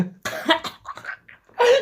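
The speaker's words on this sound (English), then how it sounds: "just coughed and dribbled all over herself" Several harsh, close coughs in quick succession, ending with a strained throaty burst after a brief pause.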